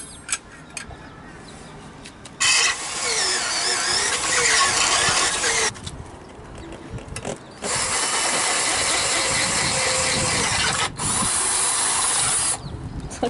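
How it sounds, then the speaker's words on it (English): A power drill runs in bursts in a small portable workshop aboard a sailboat, whirring loudly for several seconds at a time with brief pauses between runs. "Look at you use that drill."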